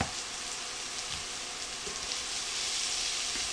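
Peppers and onions with cracked black pepper cook down in a pan, giving a soft, steady sizzle with light crackling pops that swells a little near the end.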